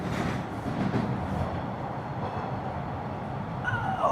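Passenger train ride on Christmas Eve evening, a continuous rolling rumble and rattle of wheels on track heard from inside the carriage, with a faint squeal near the end.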